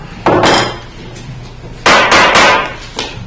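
A gavel striking to open a town council meeting, heard as a sharp knock followed a second later by a quick cluster of three loud raps, close and alone.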